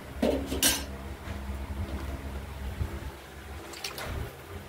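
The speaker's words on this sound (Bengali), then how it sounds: "এরপরে ভেজে রাখা মাছগুলো দিয়ে দেবো।" Fried pieces of large katla fish dropped into a pan of curry with potatoes, giving a few close metallic clinks and soft splashes over low simmering.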